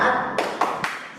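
Three sharp, evenly spaced claps of a spirited classroom cheer ring out after a moment of voice-like hum, near and moderately loud.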